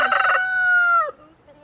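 A rooster gives a single loud, close cock-a-doodle-doo crow, about a second long and ending in a falling note, followed by near silence.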